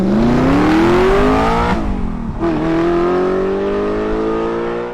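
An Audi R8 V8 with a Eurowise exhaust revs hard and loud, its pitch climbing smoothly, dropping briefly on a shift, then rising again in a sustained high, exotic wail.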